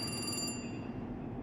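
Telephone ringing in the video game The Cat Lady, a brief electronic ring that cuts off after half a second, leaving a steady low hum underneath.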